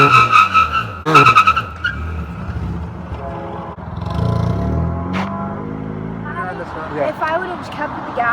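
Engine of a manual Civic or Miata revving as the tires spin under throttle, a rising and falling drone with a brief screech, heard close under people talking throughout.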